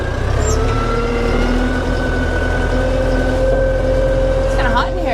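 A farm vehicle engine drives through snow with its wheels spinning, giving a steady, loud droning rumble heard from inside the cab, with a person talking over it.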